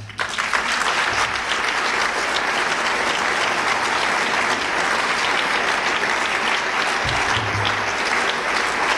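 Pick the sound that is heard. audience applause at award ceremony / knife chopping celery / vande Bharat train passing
audience applause at award ceremony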